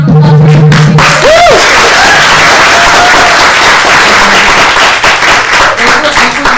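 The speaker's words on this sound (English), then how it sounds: "Round of applause for our speakers" Loud, close applause and clapping from a conference audience after a plenary panel of speakers at UCSB, continuous throughout, with a short tone and brief voices audible at the start.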